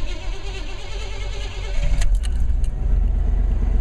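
A truck engine cold-starts and settles into a steady idle, with a low rumble rising around the midpoint and a few sharp clicks, close and fairly loud.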